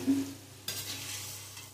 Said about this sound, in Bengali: একটু লবণ দিয়ে আলুগুলো খুব ভালো করে ভেজে নিব